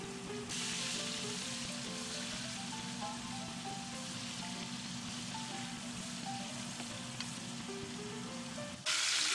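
A burger fries in fat in a small frying pan, giving a steady dense sizzle that holds nearly unchanged throughout, with faint tonal notes in the background and no talking.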